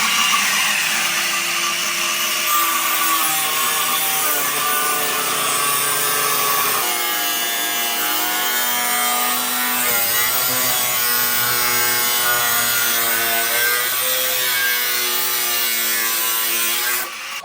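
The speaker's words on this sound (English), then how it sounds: "Oh, this giant freaking cutoff wheel." Large cutoff wheel slicing through a Cadillac Deville's body to clear 35-inch mud tires, a loud sustained grinding screech that shifts pitch as the cut deepens, close and uninterrupted.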